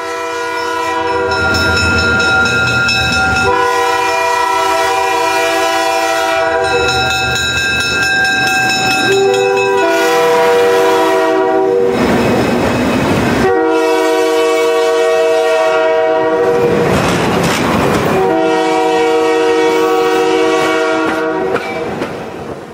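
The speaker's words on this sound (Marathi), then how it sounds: "देवचंदांनी कारंजाच्या रेल्वे स्टेशनवर पाय ठेवला" A train at the Karanja railway station sounds its horn in several long, loud, droning blasts separated by short gaps, over the close rumble and clatter of the rolling train.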